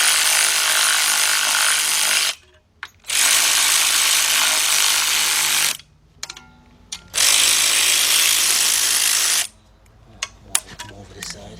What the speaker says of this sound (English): let's get our 17 millimeter, 3/8 driver, 3/8 drive ratchet, and I'm gonna slowly start bringing these in.